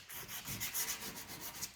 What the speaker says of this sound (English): you use this sandpaper like this